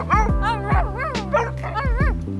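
Pups on a riverside camping trip give a quick series of high yips and barks, about five close, loud bursts with whimpering tones between them.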